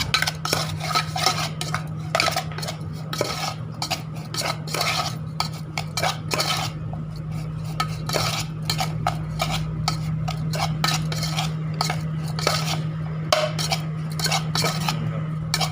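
Grilled pork laab being mixed with a pounded paste of toasted dried chili, shallot and garlic, rapid repeated clinks and scrapes of a utensil against a bowl over a steady hum, close and without talk.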